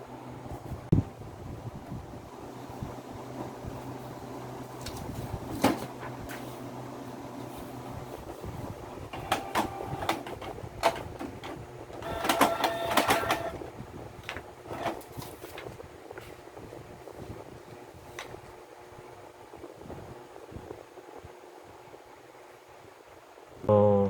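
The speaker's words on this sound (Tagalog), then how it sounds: "abangan na natin yung ating printer na mag-print" A Canon MP237 inkjet printer whirs and clicks softly as it feeds and prints, with intermittent mechanical rattles and brief louder bursts over a quiet background.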